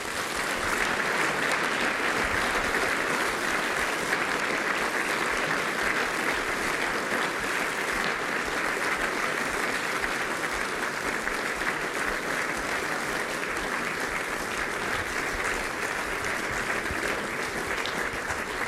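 An audience applauds after a talk on innovation and technology, art or science, with sustained, even clapping from a large crowd that holds at a constant level throughout, with no voices over it.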